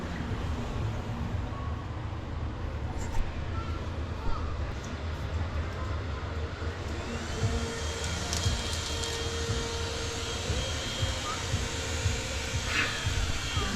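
A vacuum cleaner used indoors to catch flies runs as a steady, broad roar throughout, with a few faint clicks and small bumps on top.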